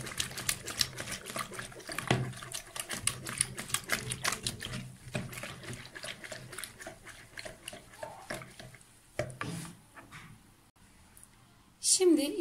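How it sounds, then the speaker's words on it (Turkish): Sugar and other ingredients are stirred into a cup of warm water, producing a busy, rapid clinking and sloshing of a utensil against a bowl close by, with a voice speaking near the end. "Bu malzemeleri karıştırıyorum."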